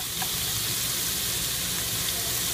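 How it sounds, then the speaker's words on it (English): Onions, celery and carrots sauté in a pan of browned meat for Irish stew, giving a steady, close hiss of sizzling with no pause. "just saute them up for 2-3 minutes"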